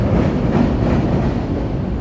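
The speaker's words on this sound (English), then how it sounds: "let me back up here so we can catch the L train here. There it is. Pink line's heading across." A Chicago Pink Line L train crosses on elevated track along the riverwalk, a dense, loud rolling rumble of wheels and cars, continuous throughout at close range with no talking.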